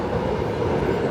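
A New York City subway train rumbles underground beneath 8th Avenue, a dense, steady low roar with a faint rattle that holds throughout.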